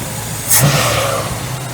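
A 1969 Ford Mustang engine that sat for over 30 years and may have a dead cylinder holds a raised idle near 2,000 RPM, a loud, close, steady hum that swells slightly partway through.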